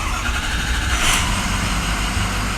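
Ford 6.0 Powerstroke diesel with a blown EGR cooler, nearly hydrolocked, cranking and firing up into a loud, rough, clattering engine roar close by, with no talk.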